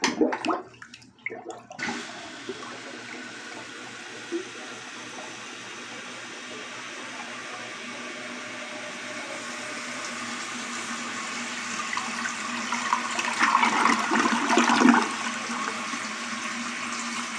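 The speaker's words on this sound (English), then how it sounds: "let's flush it and let's see what happens" A 1958 Case 1000 toilet with toilet paper in the bowl flushes after a soft knock, a steady rushing swirl of water that builds and gurgles loudly near the end, then settles into the refill.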